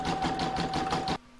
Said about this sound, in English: now I'm going to pop that into my machine and stitch round number 2